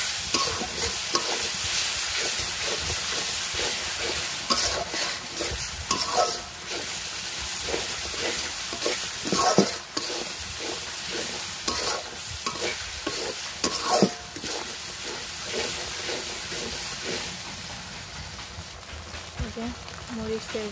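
Ginger and garlic fry in a pan while being stirred, sizzling steadily with repeated scraping strokes and short bursts of louder hiss at an uneven rhythm.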